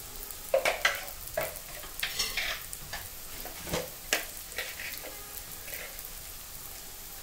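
Spiced dry peas with chili powder and coriander powder are stirred in a pan, giving soft scraping and scattered clicking strokes at an uneven rhythm under a light sizzle.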